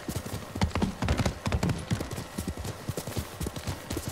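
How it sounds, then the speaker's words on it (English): A horse's hooves clip-clop steadily in the Ghost of Tsushima video game, a close, rhythmic gait of brisk hoofbeats continuing throughout. "I'm probably better off getting the horse, so time to bring out Sora."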